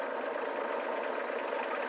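A tractor engine idles with a steady, even rumbling chug, close and continuous for a couple of seconds, no voices over it.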